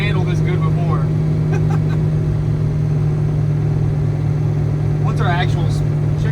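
Steady mid-pitched engine drone of a 1969 Dodge Charger cruising on the road at about 2,500 RPM, constant and close, with someone talking over it.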